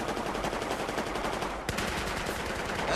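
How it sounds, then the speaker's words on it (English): Rapid, continuous gunfire from the video game Battlefield 4, loud and dense throughout, with a sharp extra shot cracking near the middle amid the steady automatic bursts. "Oh god, I hear fucking shots."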